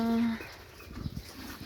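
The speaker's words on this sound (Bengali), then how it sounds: "এই দেখো সবাই আমাদের গরুটা" A cow's low moo ends abruptly at the start, followed by quiet rustling and shuffling outdoors near a jute field.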